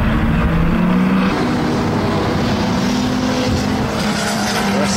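Classic racing cars from the pre-1975 era lapping a circuit at King's Lynn, a steady loud engine roar with shifting pitch throughout, no pauses, as cars pass close by.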